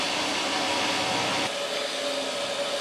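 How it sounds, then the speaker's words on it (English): An electric pump circulating liquid propane from a large tank into a vaporizer on a land-based jet engine setup gives off a steady, dense whirring hum, unbroken and fairly loud, with a slight shift in tone midway. "What we're hearing now is the electric pump, which is circulating liquid propane from the big white tank into the vaporizer."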